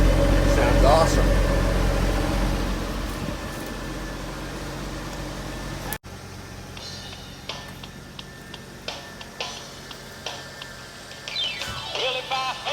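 A 1974 Ford F-250 Ranger SuperCab truck engine idles cold, a steady low rumble that drops quieter halfway through, with scattered clicks and light knocks over the hum.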